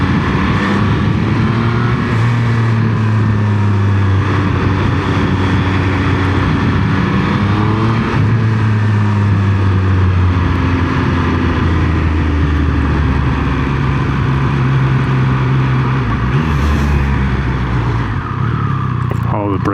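A Triumph Speed Triple 1200 RX motorcycle engine drones loud and steady while riding, its tone rising and falling with throttle over constant wind rush, recorded from the rider's position.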